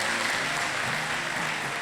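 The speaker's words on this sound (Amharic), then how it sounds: "እግዚአብሔርን አመስግኑላት በብዙ እልልታ በብዙ ክብር" A worship congregation breaks into loud, sustained applause mixed with shrill ululation in praise after a cancer-healing testimony, a dense continuous roar filling the room.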